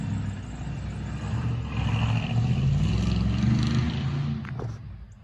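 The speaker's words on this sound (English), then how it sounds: "We got a truck coming down here." A truck drives by outdoors, a steady engine rumble that builds to a broad peak and then trails off as it passes.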